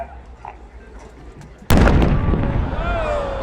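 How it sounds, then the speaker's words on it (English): A 10-inch American-made draw-out cylinder firework shell's bottom shot bursts suddenly with a loud, close blast, then a long roaring, crackling wash of sound that decays slowly, with faint murmuring before it. "It's a 10-inch draw-out shell."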